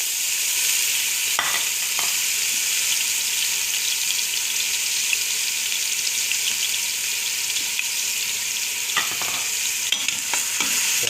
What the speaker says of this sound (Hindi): प्याज को थोड़ा फ्राई करेंगे।